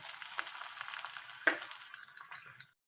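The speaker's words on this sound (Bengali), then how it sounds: "এই ফুলকপিটা আগে ভেজে নিই একটু" Cauliflower pieces fry in a pan with a bright, steady sizzle and one sharp clatter midway, before the sound cuts off abruptly.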